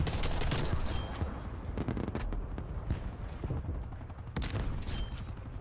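Dense gunfire from a Black Ops Cold War match, with rapid overlapping shots and bursts sounding loud and close, then continuing in heavy clusters across the whole stretch.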